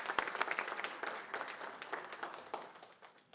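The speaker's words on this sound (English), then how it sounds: "go ahead, you can clap" Audience applause at a school board meeting for an elementary school band and chorus, a steady wash of many hands clapping at moderate distance that slowly tapers off.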